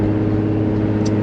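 A turbocharged Nissan Z car engine runs steadily at close range, a constant low droning hum with a faint high whine near the end, no voices over it.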